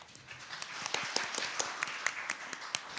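Audience applause welcoming a Ministry of Health and Welfare mental health policy official as the second panelist at a guardianship workshop, a faint, steady patter of many hands clapping in a hall, alone with no talk.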